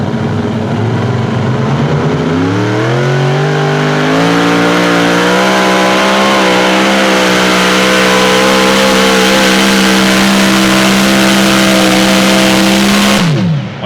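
A super modified tractor roars at full power during a tractor pull, its engine note rising in stages, then holding a loud, sustained scream for about ten seconds before cutting off abruptly.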